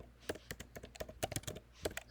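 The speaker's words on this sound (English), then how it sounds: "type it here." Quick, close clatter of keystrokes on a computer keyboard, an irregular burst of clicks, fairly quiet, no speech.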